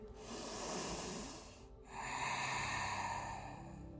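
Slow breaths in a yoga practice for shoulder and hip joints, heard as two long, hissing airflows near the microphone with a short gap between them and no speech.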